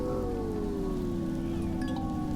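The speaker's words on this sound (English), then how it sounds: "hide for a few minutes while this acid rain passes" Steady acid rain hissing down on an alien planet in the video game Empyrion, with a low droning tone beneath, soft and continuous.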